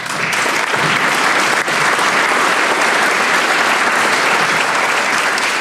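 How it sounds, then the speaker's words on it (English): An audience at a small business recognition awards ceremony breaks into loud, sustained applause, a dense wash of clapping that holds steady throughout. "You deserve a round of applause for that."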